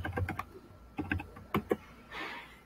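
Quick bursts of keystrokes on a computer keyboard clatter close by while typing a chat message in Google Docs, followed by a short soft rustle.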